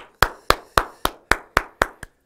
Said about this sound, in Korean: 박수 한번 줘요, 여러분.